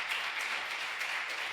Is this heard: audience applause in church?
yes